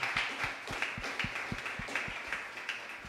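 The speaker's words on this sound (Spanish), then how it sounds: "Dale fuertes aplausos al Señor." Church congregation clapping during a sermon, a faint, steady rhythmic clap repeated about every third of a second, heard from a distance without talk.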